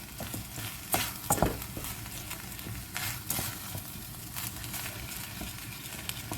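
Lentils being stirred in a pan for a home recipe, a soft scraping and gentle sizzle with a few spoon knocks against the pan, fairly quiet and steady.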